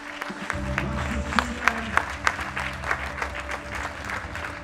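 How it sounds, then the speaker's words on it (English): Audience applause at a world classic powerlifting championship, steady clapping with a few sharper claps standing out, heard over low music or hall sound and a faint voice. "Give him a round of applause, ladies and gentlemen."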